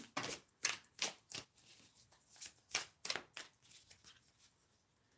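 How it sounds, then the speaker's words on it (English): Tarot cards being shuffled by hand, with quiet, close, rhythmic bursts of card flicks and riffles repeating steadily for several seconds. "I want to be shuffling them in reverse"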